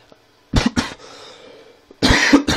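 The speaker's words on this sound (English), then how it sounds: "Sorry about that, I have actually got a pretty bad cough at the moment." A man with a bad cough lets out two sharp, close coughs, then a short pause, then another burst of coughing, loud and dry.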